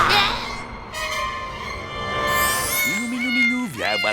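A cat meows loudly several times, the calls rising and falling in pitch, with a busy soundtrack and other voices around.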